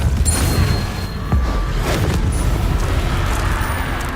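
Confringo fire spell exploding in the game Hogwarts Legacy, heavy booming blasts with crackling debris, loud and close, one strong impact followed by a rolling rumble.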